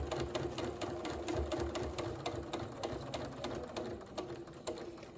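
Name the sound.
sewing machine stitching on basting line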